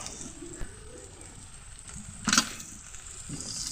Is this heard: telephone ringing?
no